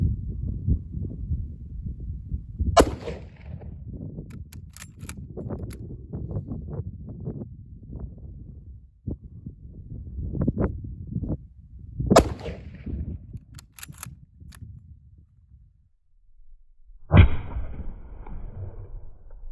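A Mosin-Nagant M44 rifle fires Bulgarian surplus rounds. Three sharp, loud shots ring out several seconds apart, with quieter handling and rustling noises between them.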